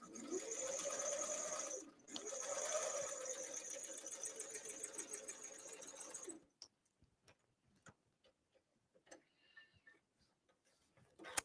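A sewing machine shirring fabric with elastic thread runs in a loud, steady whir for about six seconds with a brief pause, then stops, leaving scattered faint clicks and handling sounds.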